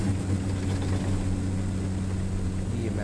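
Aircraft engine drone in a radio drama, a steady low hum with a faint propeller throb running evenly throughout, loud and alone with no voices.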